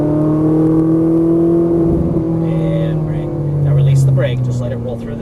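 A Ferrari 458 Italia on a racing circuit gives a sustained, droning engine note from inside the car. The tone holds and shifts slightly as the throttle builds, with a voice speaking over it.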